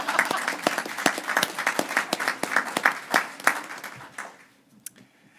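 A crowd claps for a few seconds, with sharp individual claps standing out, before the applause quickly fades to quiet near the end.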